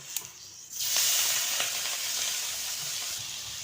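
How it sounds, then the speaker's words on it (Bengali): Prawns dropped into hot oil in a heated pan set off a sudden loud, close sizzle after a few quiet clinks, and the hiss then holds steady to the end. "আমি এবার তেলটা দিয়ে দেব। এবার চিংড়ি মাছটা দিয়ে দেব।"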